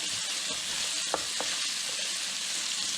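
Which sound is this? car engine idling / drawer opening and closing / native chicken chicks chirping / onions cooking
onions cooking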